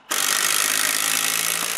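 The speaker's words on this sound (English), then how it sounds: "He begins by drilling a hole in the horizontal piece and screw it." A power drill bores a hole through a horizontal piece of wood during a deck restoration, a steady loud whirring grind that starts abruptly and runs continuously close by.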